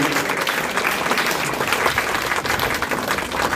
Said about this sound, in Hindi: जोरदार तालियां बजाएं आप।